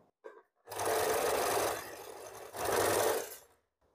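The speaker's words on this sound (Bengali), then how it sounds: "সবটা এইভাবে সেলাই করে নেব।" Sewing machine stitching the panels of an umbrella frock: two runs of close, steady mechanical whirring, the first longer, split by a short pause and starting after a brief click, with no talk.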